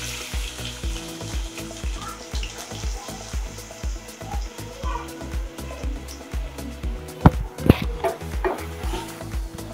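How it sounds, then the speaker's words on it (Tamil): Chopped onions sautéing in oil for Gobi Manchurian, a steady close sizzle with a regular, repeated thudding rhythm and a couple of sharper knocks near the end. "வெங்காயம் நல்லா வதங்கட்டும்."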